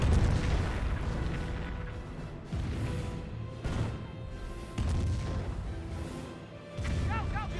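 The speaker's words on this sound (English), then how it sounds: "Another Calliope rocket barrage trying to save his other Calliope." A Sherman Calliope rocket barrage in Company of Heroes pounds out a series of deep booms and crashing impacts in uneven bursts over a steady battle din, with some commentary underneath.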